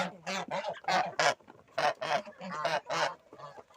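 Geese honk loudly in a rapid series of harsh, overlapping calls, close by at evening feeding time, with brief pauses between bursts.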